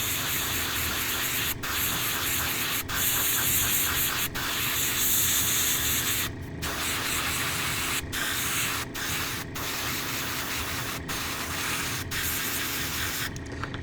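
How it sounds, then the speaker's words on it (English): An airbrush spraying miniature paint at close range, a steady sustained hiss broken by several brief pauses and short cut-offs. "I think my airbrush is getting clogged"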